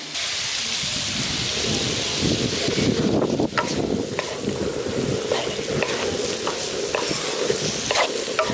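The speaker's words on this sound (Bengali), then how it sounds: "এবার ভালো করে কষিয়ে নিচ্ছি একটু।" Soybean curry with kasuri methi and green chillies being stir-fried in a pan, a steady, dense sizzle with scraping stirring strokes throughout, close and fairly loud.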